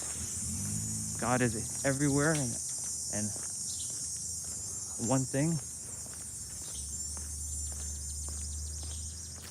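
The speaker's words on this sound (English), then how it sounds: "The cicadas, when they make that buzzing sound." Cicadas keep up a continuous high, shrill buzz through a summer outdoor scene, steady in the background under a voice speaking in short bursts.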